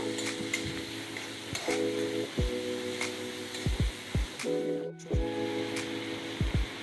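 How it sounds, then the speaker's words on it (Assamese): Onions and cumin powder frying in a pan, with a steady sizzle under repeated scraping and stirring strokes of a spatula, close and fairly quiet. "পিঁয়াজখিনি ভাজাৰ লগতে জিৰাখিনিও ভাজি ল'লোঁ।"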